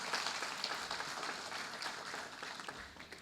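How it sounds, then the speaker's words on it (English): An audience applauding in a hall, a soft, even patter of many hands clapping that stays fairly distant and gradually eases off toward the end. "Can we please have a huge round of applause for Justice Santosh Hegde?"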